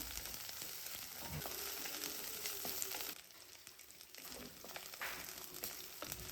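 Spices and curry leaves fry in hot oil for a crab roast, a faint, steady crackling sizzle with small pops that continues throughout without any talking.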